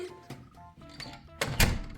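A door is pushed closed at home, ending in a dull thunk near the end after some light shuffling and clicks close by.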